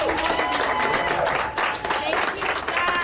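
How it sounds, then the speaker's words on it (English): Applause rings out as people receive COVID-19 vaccinations, a dense steady clatter of many hands under a voice talking over it throughout. "Applause has rung out in countries across the globe as they started vaccinating against COVID-19."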